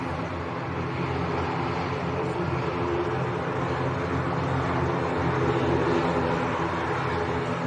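A KLM airliner from Amsterdam comes in to land at Manchester Airport, a steady broadband jet roar at moderate distance, fairly even throughout with a slight swell near the end.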